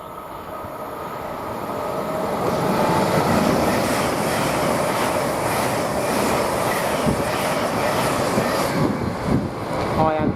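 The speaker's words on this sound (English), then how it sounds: "Now we've got a LNER service from London King's Cross to Edinburgh" An LNER train from London King's Cross to Edinburgh passes through Grantham station, a rising, rushing rumble with rhythmic wheel clatter and faint squeals, fairly close and steady before easing off.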